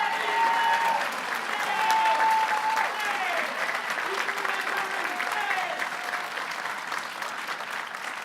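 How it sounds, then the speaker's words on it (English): Sustained applause from a crowd at a Hotel & Motel Trades Council rally, dense clapping holding steady for several seconds, with faint voices and cheers mixed in. "Let's give him another round of applause."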